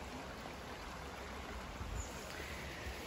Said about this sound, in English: this calming sound of